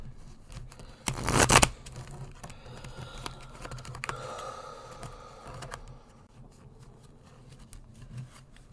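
A haunted house tarot deck is shuffled by hand: a loud burst of riffling cards near the start, then softer rubbing and sliding of cards that trails off into quiet handling noise.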